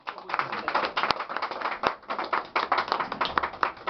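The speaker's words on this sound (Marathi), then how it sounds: "टाळ्या वाजवा जरा." An audience at a 60th birthday celebration claps in a quick, uneven patter of many hands, with people talking alongside.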